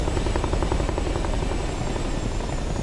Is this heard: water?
no